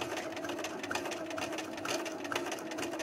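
A sewing machine runs steadily while sewing a straight stitch to attach a patch, giving a continuous, even whirring hum close by with no talking.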